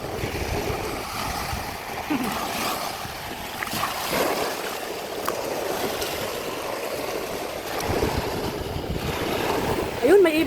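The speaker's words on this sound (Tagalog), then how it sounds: "malakas yung hangin." Strong seaside wind buffets the microphone in a constant rushing roar with surf-like swells, while voices talk intermittently over it.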